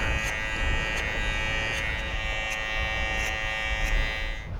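Electric clippers buzz steadily close by while trimming a mustache and hair outdoors at a mountain campsite, a continuous whine with brief ticks as the blades catch hair, and no talking.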